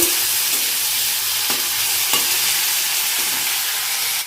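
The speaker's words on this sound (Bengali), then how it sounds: "এখানে ভাজা করছি চিংড়ি মাছটা। এখন একটু নুন হলুদ দিয়ে" Shrimp frying in hot oil, seasoned with salt and turmeric, gives a steady, loud close sizzle with a few sharp clicks of stirring.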